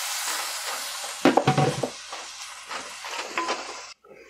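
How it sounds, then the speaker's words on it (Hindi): A spoon stirs spices, salt among them, into a little water for an aloo samosa filling, giving close, uneven wet scraping and clinks with a few brief louder strokes. No one speaks. "अब सब स्पाइसेस को मिक्स करेंगे अच्छे से।"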